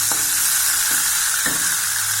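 Chopped onions fry in hot oil for a raw banana fry with a dense, loud hiss and crackle that never lets up, plus a few soft scrapes of a stirring utensil.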